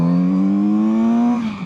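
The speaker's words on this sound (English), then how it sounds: "engine braking is serious on this thing" A loud Kawasaki Z900RS four-cylinder motorcycle engine holds a steady high rev with strong harmonic whine, then the pitch drops as the throttle closes under engine braking, no voices present.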